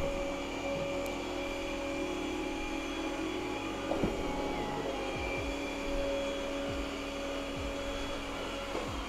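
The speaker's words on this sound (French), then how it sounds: "là on a la puissance d'aspiration qui baisse hein, dès qu'il est descendu du tapis" A Yeedi Vac Max robot vacuum hums steadily and close by, its motor drone continuous, with suction easing down as it rolls off a carpet onto bare floor.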